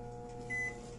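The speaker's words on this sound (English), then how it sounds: "So now what you want to do is you want to put it in the microwave." Microwave oven running while it heats coconut oil, a low steady electrical hum with a faint brief tone rising partway through, quiet and continuous.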